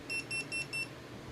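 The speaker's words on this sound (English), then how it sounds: "Time to test the buzzer." Buzzer newly wired onto a TinyHawk drone flight controller board beeps four times in quick, even succession, thin and high-pitched, fairly faint against a quiet background.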